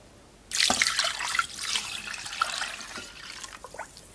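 Water pours steadily into a cooking pot for pea soup in a village kitchen, a close, splashy stream starting abruptly and running for several seconds before easing off.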